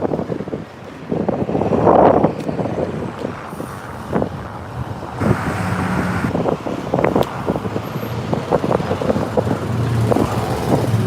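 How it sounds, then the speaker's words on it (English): Strong wind buffeting the microphone outdoors on a street in Yakima, Washington, a constant roaring rumble with gusty bursts throughout and no one speaking. "It is so windy, Truth Seeker."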